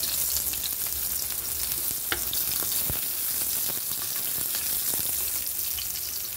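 Onion sautés with garlic in a hot pan for an ingredient-focused home dish, giving a steady close crackling sizzle with scattered pops and stirring scrapes throughout.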